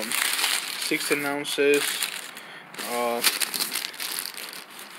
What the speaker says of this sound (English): So I just removed that plastic bag.